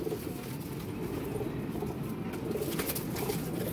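Pigeons coo softly in a loft, low repeated throaty calls with a faint background rustle and no talking.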